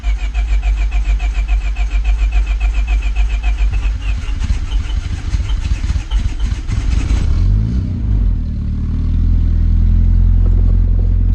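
A Honda CRX engine cranks and catches, firing up loud and close, then drops into a rough, steady idle with a low rumble.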